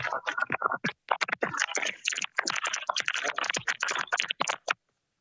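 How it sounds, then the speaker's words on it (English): Paper rustling coming through a remote meeting call, heard as a rapid series of choppy, crinkly scratches and bursts that stop abruptly near the end, with no talking. "all we hear is like paper rustling"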